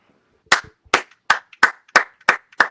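A single pair of hands claps seven times, sharp and close, at a quick, slightly uneven pace. Near-silence separates each clap.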